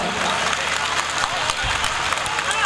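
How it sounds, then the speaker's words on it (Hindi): A crowd applauds loudly and steadily at a mushaira, an Urdu poetry gathering in Jhangeerabad, Bulandshahr, with dense, continuous clapping filling the whole stretch and no voice over it. "आप जोरदार तालियां बजा के बताइए मुझे।"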